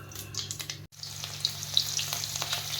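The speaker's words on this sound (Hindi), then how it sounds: "तो अब मैं इसमें प्याज डाल देती हूँ" Onions frying in a pan give a soft, close sizzle with crisp crackles over a low steady hum, briefly cutting out near the start.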